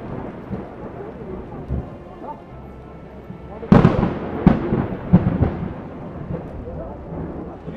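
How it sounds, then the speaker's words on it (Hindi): Heavy rain falls continuously at Kedarnath on a pilgrimage route, with a rumble of thunder and loud, sharp bursts standing out midway over the hiss of the downpour. "बारिश तो कल सुबह से रुकी नहीं है"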